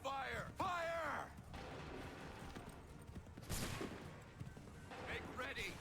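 Musket volley gunfire in Assassin's Creed III, a few sharp shots amid shouting soldiers and battle noise, fairly faint overall.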